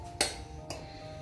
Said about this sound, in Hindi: अब हम इसे एक बाउल में निकाल लेंगे।